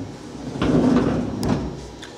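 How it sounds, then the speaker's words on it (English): A revolving door on the enclosure of an FC-250EX machine turns, giving a steady low sliding, rolling rumble that swells and fades over a couple of seconds, close by with no talking. "We have a revolving door on this side."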